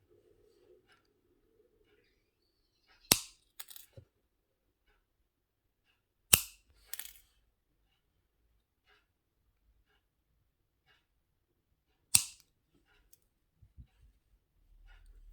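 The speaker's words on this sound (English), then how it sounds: "We're going to cut off these 2 wires." Wire cutters snip through jewelry wire while earrings are being made: three sharp, close clicks spaced a few seconds apart, each with a faint follow-up tick, set against near silence.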